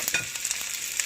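Spinach hitting a hot pan for vegetarian fried rice, giving a brief steady sizzle with a couple of soft stirring knocks, close and alone.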